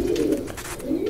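Homing pigeons coo while nesting, a low continuous throaty purr holding steady close by, swelling slightly at the start and end of the short stretch.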